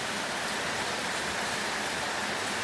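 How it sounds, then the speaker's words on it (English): Heavy rain pours outdoors on a late morning, a dense and steady hiss of falling water that fills the whole short stretch evenly and loudly, with no voices over it. "it's raining heavily"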